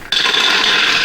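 A high-powered blender grinds nuts such as almonds, pecans and walnuts, starting abruptly and holding a loud, steady whirring grind throughout.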